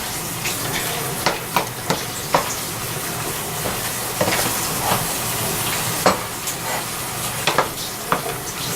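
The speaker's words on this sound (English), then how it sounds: "Okay, so let's stir it again. Make sure everything gets cooked well." Taco filling with chunks of vegetables cooks in a pan, giving a steady close sizzle and hiss with repeated scraping, clinking stirs every second or so.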